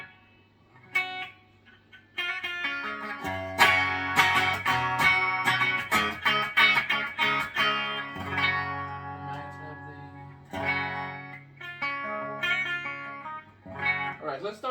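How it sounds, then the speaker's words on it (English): An electric guitar plays chords and single notes through a Carvin Quad X amp, each strum ringing out with a splashy, echoing spring reverb tail. "And there's actually built-in spring reverb here."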